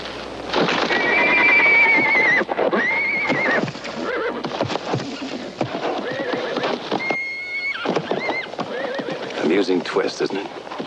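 A horse whinnies several times amid stamping hooves and agitated commotion, with people talking over the struggle.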